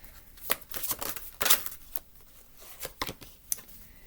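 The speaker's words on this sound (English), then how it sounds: "let me give this a quick shuffle" A deck of cards is given a quick shuffle in a quiet room, a series of short papery riffles and snaps in an irregular rhythm, close and fairly soft, with no talking.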